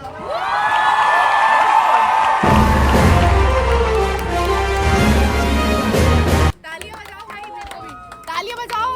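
Lively clapping and cheering from students at a college farewell party fill the first part amid loud crowd chatter, then cut off abruptly, leaving a voice talking over quieter background noise.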